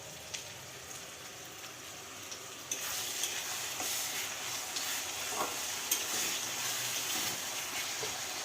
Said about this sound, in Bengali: তো পেঁয়াজটাকে ভালো করে ভেজে নিবে। আদা রসুন বাটা দিয়ে দিচ্ছে।